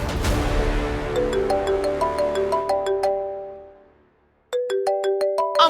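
Melodic mobile phone ringtone playing loudly and alone, its bright tune cycling, fading out briefly, then starting again near the end.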